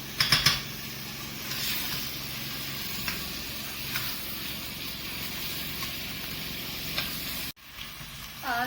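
Mutton liver (kaleji) fries in oil with a constant close sizzle and spattering, a few light stirring clicks, then a sudden brief cut near the end before the frying resumes.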